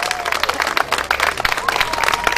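Audience applause at a village karaoke contest in Derhachi district, a dense crowd clapping steadily for about two seconds with a voice faintly present beneath it.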